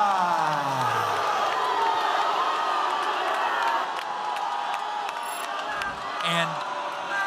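An arena crowd at a split-decision fight result for Nikola Kacperska against Alex Apodaca, a dense, sustained roar of many voices filling the hall, loud and continuous with whoops rising through it.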